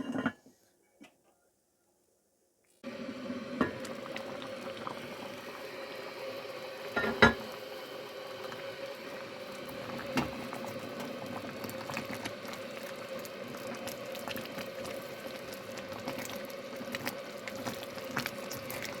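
A big pot of beans boils on a home stove, a quiet, steady bubbling and simmering with faint ticking pops that runs continuously after a short silent start.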